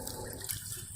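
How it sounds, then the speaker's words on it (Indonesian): Clean water splashing and trickling over a deer antler and a river stone as they are wetted, a steady close wash of running water with no talk. "Kita basahkan dengan air bersih"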